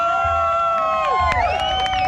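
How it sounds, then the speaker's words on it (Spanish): A beach party crowd cheers and whoops for a newly engaged couple, loud and close, with scattered shouts and claps over a constant bright tone. "Fuerte el aplauso para los novios"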